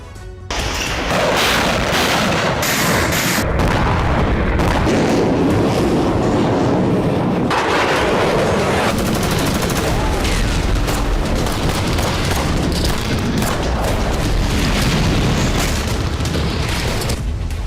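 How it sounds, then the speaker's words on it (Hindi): A rapid series of powerful explosions in Crimea merges into a continuous, loud, rumbling roar, with sharper blasts breaking through and no let-up for the whole stretch. "दूसरा धमाका, तीसरा धमाका, चौथा धमाका, पांचवा धमाका।"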